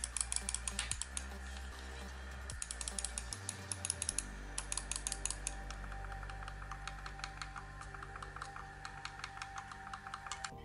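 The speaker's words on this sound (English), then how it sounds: "here's a sound test of what it sounds like when you click on the buttons." Rapid, crisp clicks from the buttons of a Logitech MX Anywhere 2 wireless mouse, sounding in quick irregular bursts close up and fairly quiet, with a low steady hum underneath and no voices.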